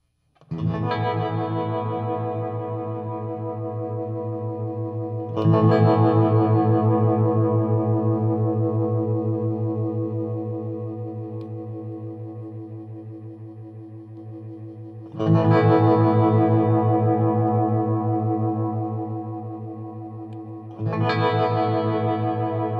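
Sustained guitar chords ring through a Strymon Flint reverb and tremolo pedal, four loud strums each swelling and slowly decaying into washy, pulsing reverb, with no talking.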